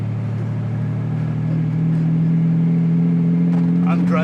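A Lamborghini Diablo supercar heard from inside while driving, a loud steady low engine drone with a strong hum that builds slightly, and voices talking briefly near the end.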